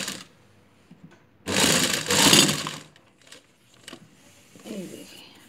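Sewing machine stitching the seam and waistband casing of a boxer, with two bursts of loud steady whirring in the middle, then quieter intermittent runs and handling noise.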